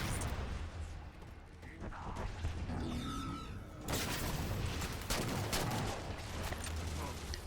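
Fury gun fire in Halo Spartan Ops on Legendary, a sustained, dense barrage of booming shots and crackling blasts, loud throughout with a heavier surge midway.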